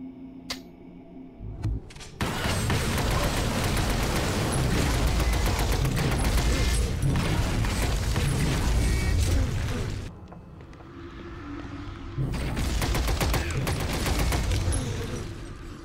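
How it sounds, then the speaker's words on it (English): A deployed turret in XCOM hammers out sustained bursts of automatic gunfire with heavy booms, loud and dense, breaking off briefly mid-way before a second long volley resumes. "He wants to drop that turret down right now and give them a taste of their own medicine."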